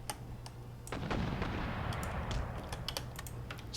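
Battlefield din from Empire: Total War with DarthMod: a heavy mortar-like boom swells up amid crackling, scattered musket shots, sharp distant reports over a continuous rumble.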